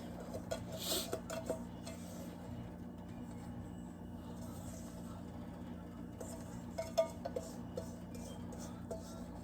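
Utensil scraping chocolate pie filling from a bowl, with repeated soft clinks and scrapes against the bowl at close range, moderately quiet and steady, no talking.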